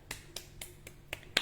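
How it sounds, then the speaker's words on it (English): Sharp, light slaps of hands tapping and clapping the body during a yin yoga warm-up, six crisp hits in quick uneven rhythm, close and fairly quiet with no talking. "tapping and clapping the body"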